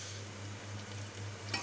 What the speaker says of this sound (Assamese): এইখিনি 2-3 মিনিটমান গেছৰ ফ্লেমটো ল' কৰি আমি ভাজি ল'ম